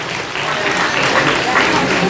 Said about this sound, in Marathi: जोरदार टाळ्या होऊन द्या